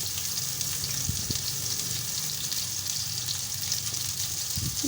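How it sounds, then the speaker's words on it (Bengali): Soya chunks fry in hot oil in a kadai, giving a steady, even sizzling hiss throughout with a few faint low knocks underneath; no one speaks. "সয়া চামচগুলো ভালো করে ভেজে নেব, গোল্ডেন ব্রাউন করে ভেজে নেব"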